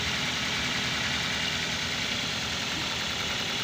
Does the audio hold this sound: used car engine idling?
yes